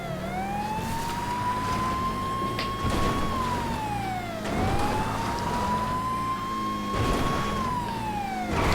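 A police car siren in GTA V wails in a steady rising and falling cycle, loud and close, repeating about every four seconds over a continuous engine and road rumble, with no voices.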